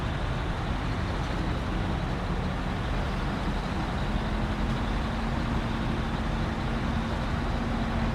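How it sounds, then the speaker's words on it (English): A heavy truck engine in the off-road driving game Snowrunner, on a Michigan map, drones steadily and loudly throughout, a thick, constant rumble with a faint rising tone, and no voices over it. "I do really like the sound this truck makes."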